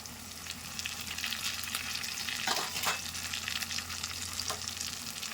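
Chopped tomato goes into a pan of home-style Bengali chicken curry cooked with ground spice paste, setting off a steady close sizzle and fry hiss with a few brief louder splutters as it hits the hot oil.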